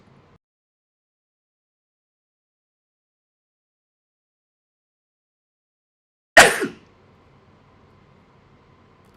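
One sudden, sharp sneeze bursts out after a long stretch of near silence, then fades into faint room noise.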